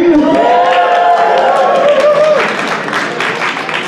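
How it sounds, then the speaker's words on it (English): Audience at a startup weekend education pitch event in Pittsburgh applauds and cheers, loud voices rising in whoops over a dense bed of clapping that thins slightly toward the end. "please stand up so we can give you a round of applause, please"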